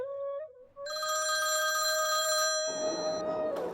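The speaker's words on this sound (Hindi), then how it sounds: "एक बार श्यामलाल ने पीसीओ से मनु के पास फोन लगाया" A telephone rings from a public call office booth, a sustained electronic bell tone with steady harmonics lasting a few seconds, loud and close, ending in a brief burst of noise.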